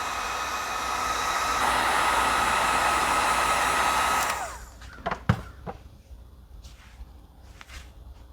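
Heat gun heating PVC pipe for a candy cane shape: a steady close blowing hiss with a high whine runs for about four seconds, then cuts off, leaving clunks and soft handling noises.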